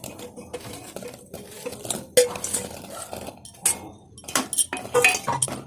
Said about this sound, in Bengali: সেইগুলো আমি আস্তে আস্তে রসে মিশিয়ে দেবো